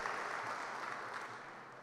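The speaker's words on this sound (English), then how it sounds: "Give a round of applause." An audience claps at a women in aviation chapter gathering, a soft, steady wash of applause from many hands heard at a distance, even and unbroken throughout.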